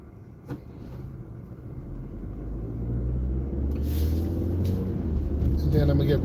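Road traffic on a busy road during holiday driving, heard from inside a moving car: a steady low engine and tyre rumble that swells gradually louder, with a brief knock near the start.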